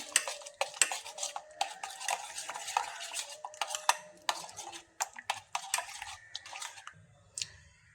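Cold milk being mixed in a bowl for a mango milk drink: quick clinking spoon strokes against the bowl in a busy rhythm, close and fairly quiet, with no speech.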